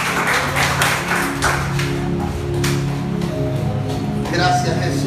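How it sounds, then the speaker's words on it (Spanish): A church congregation clapping for the Lord, a dense, steady patter of many hands filling the room, with a voice speaking over it and a sustained tone underneath. "Dale ese aplauso al Señor."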